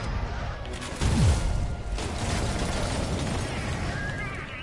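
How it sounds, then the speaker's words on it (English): A trip mine goes off in a Spider-Man video game, a single heavy blast about a second in followed by rumbling debris and game noise for several seconds. "Trip mine."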